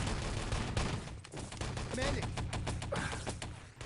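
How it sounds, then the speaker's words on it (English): Thompson submachine gun fire in the video game Enemy Territory during a 6on6 LAN tournament match, rapid bursts of shots repeating over a few seconds, with other game sounds mixed in. "Heard that Thompson shot"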